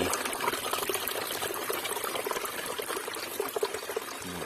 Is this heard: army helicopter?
no